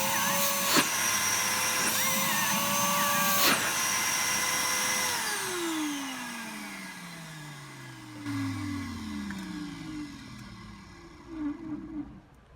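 Numatic Henry HVR200 vacuum cleaner running without its filter, motor whining loudly up close, then spinning down with a falling pitch before restarting briefly.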